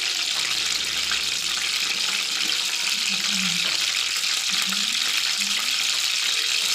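Butter melts into palak paneer as it is mixed in a hot pan, giving a continuous loud sizzle with soft scraping and stirring sounds and faint voices in the background.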